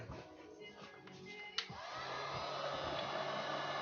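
A heat gun warming an Opel Insignia engine cover switches on partway through, settling into a steady, loud airflow roar after a brief click.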